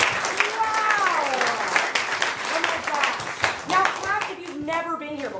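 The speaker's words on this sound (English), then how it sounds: "clap if this is your first time being at the arcade?" Scattered audience clapping at an improv comedy class show in an arcade venue, a loose patter of hands mixed with chatter, laughter and voices talking over it throughout.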